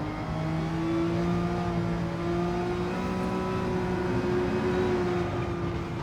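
A race car in Gran Turismo 7, racing wet at Circuit de la Sarthe, its engine holding a loud, continuous high rev with slowly rising and falling pitch, close and steady throughout.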